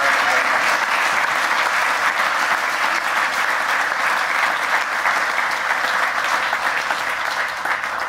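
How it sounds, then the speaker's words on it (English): A large audience applauds at a championship celebration, a dense, steady wash of clapping that holds at full strength for the whole stretch without a break. "Give yourselves a round of applause"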